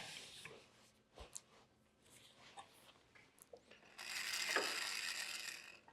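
A bolt is loosened during setup for machining the bottom of a capstan drum, heard as a few scattered mechanical clicks and then a denser run of ratchet clatter near the end.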